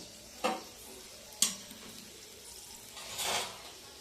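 Dried red chillies and a bay leaf fry in hot oil over low-medium gas, with two sharp utensil clinks against the pan and a soft sizzle that swells briefly near the end.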